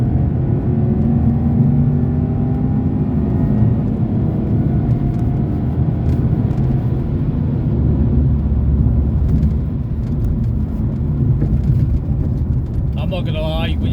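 A Porsche 955 Cayenne S under hard throttle gives a loud, continuous deep engine roar from inside the cabin, holding steady for the whole stretch with a faint voice mixed in near the end.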